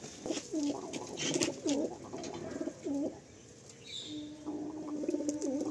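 Pigeons kept in the lower section of a loft give several rolling coos in separate bursts over a faint steady background hum, close by and with no voices.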